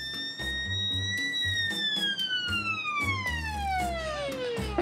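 A theremin plays long gliding tones, sliding slowly downward with swelling and fading volume, over a rhythmic low backing with regular percussive hits.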